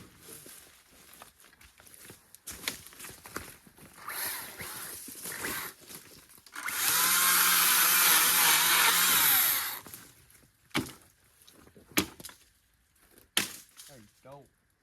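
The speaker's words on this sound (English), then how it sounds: "Hey, where's the chainsaw?" Chainsaw cutting wood during a fort build outdoors, a loud sustained buzzing burst of about three seconds in the middle, surrounded by thuds, crunching and people talking.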